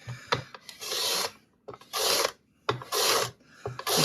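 A carrot is rasped over a Korean carrot grater in three or four long, scraping strokes, loud and close, with short pauses between them.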